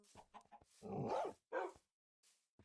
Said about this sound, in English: Man, dogs sound so weird now.